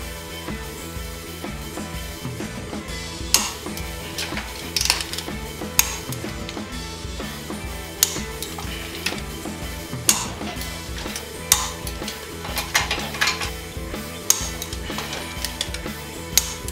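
A torque wrench ratchets on the intake bolts of a Trans Am LT1 engine, with repeated sharp metallic clicks and ticks in irregular bursts over a quiet background.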